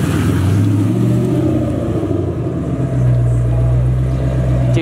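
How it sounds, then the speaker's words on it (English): A Ford Mustang engine revs at a car show, a loud, deep steady drone that swells and settles, then climbs to a higher sustained rumble near the end. "Dude, Mustangs just sound so nice."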